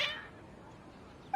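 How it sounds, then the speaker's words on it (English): Agitated cats in Genshin Impact give a short, bright meow at the very start that fades into quiet game ambience, then a brief sharp cry cuts in at the end. "Your cats seem pretty worked up."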